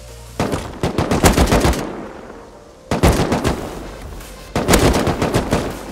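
Automatic AK rifle fire in the survival video game Rust, three loud close bursts of rapid shots separated by short pauses.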